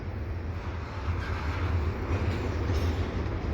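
A CPKC eastbound intermodal freight train passes close by at the Dorval ramps in the evening, a loud, steady roar of wheels and cars with deep rumble and some wind buffeting throughout.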